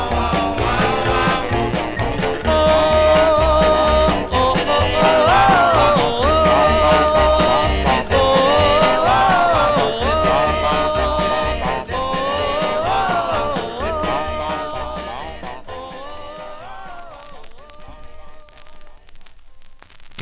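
1958 doo-wop record on the Bow label, vocal group harmony over bass and rhythm, played from vinyl at steady volume before slowly fading toward the end.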